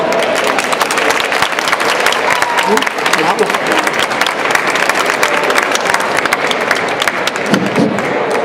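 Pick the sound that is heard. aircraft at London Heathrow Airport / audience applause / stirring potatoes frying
audience applause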